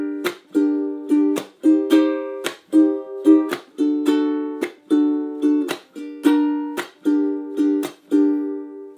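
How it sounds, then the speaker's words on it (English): A ukulele strums chords from a song in a steady repeating pattern, sharp percussive chucks cutting between ringing strums, played close and alone for about nine seconds. "if you just do it all throughout with the chord progression and the strumming with the chuck"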